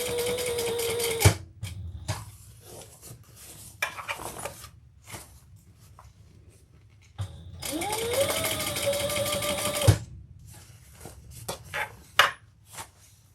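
A sewing machine runs top stitching on a fabric bag in two main bursts with choppy stops and starts between them, close and moderately loud, with mechanical clicks in the quieter gaps.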